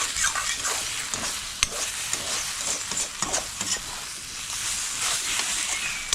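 Beaten egg cooking in a hot pan for egg rice, a soft continuous sizzle with scattered stirring scrapes and taps, close up, no talking.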